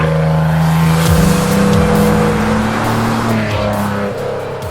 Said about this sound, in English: Very first thing you notice driving this car is the exhaust.